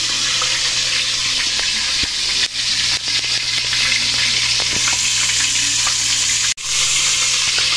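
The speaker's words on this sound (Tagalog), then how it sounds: "Si mama po mga kabayabas ay magsusunog na po ng asukal." Sugar sizzles and fries in a pan, being burnt for kutsinta coloring, as a steady close crackling hiss with faint stirring scrapes throughout.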